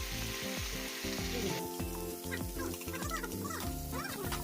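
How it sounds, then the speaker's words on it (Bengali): Cauliflower fries in oil with Kashmiri chili and spices for an egg curry, a steady close sizzle with stirring clatter against the pan, mixed with background music. "এইবারে ভালোভাবে ভেজে নিলাম"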